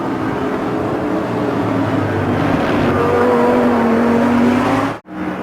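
Audi R8 race car with a 580-horsepower engine in the Automobilista 2 racing game, a steady loud engine drone holding and rising in pitch, then cutting out briefly near the end.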